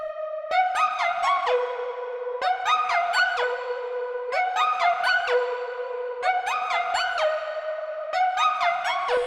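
The LD Screaming Glider and PL Mushy Plucks 2 synths from Muddy Cups Volume 2 play together in a looping pattern, with bright gliding notes rising in steady repeated phrases over soft plucked tones, loud and continuous.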